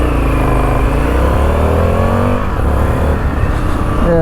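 An Indian FTR 1200S motorcycle engine revs hard and steadily on a ride, loud and close, its pitch sweeping upward through the gears with a continuous rich drone and no talking.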